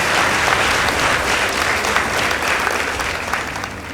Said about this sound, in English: Let's give Matungulu Girls High School a clap.